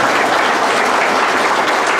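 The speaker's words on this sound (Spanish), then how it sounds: "Ese fuerte aplauso" Loud, sustained applause from a crowd after a mariachi performance at a religious celebration, steady clapping filling the whole stretch without pause.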